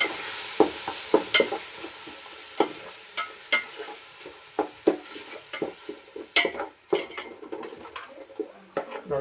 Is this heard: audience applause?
no